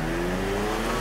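An Audi TT RS with a five-cylinder single-turbo engine is accelerating, and its loud, steady engine note holds close and continuous for about a second with no voices.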